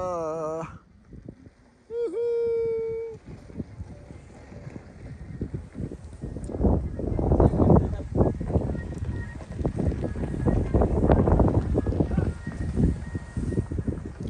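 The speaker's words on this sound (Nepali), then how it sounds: "एकदमै धेरै हावा चलिरहेछ एकदम चिसो हावा आइरहेछ" Strong cold wind roars and gusts across the microphone in heavy, rumbling bursts between Pokhara and Mustang, Nepal, building louder through the second half after a brief tonal squeal near the start.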